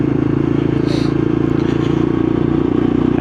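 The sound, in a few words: Lexmoto LXR E55 125cc motorcycle riding through town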